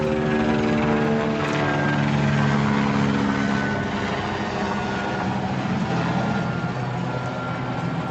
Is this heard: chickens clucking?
no